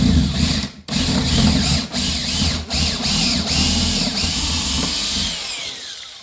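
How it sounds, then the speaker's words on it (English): A power drill grinds steadily through timber, boring a 10mm hole, loud and close, with a few short pauses where the bit stops before biting in again. "We'll go a 10mm through there, and then we'll use the step drill"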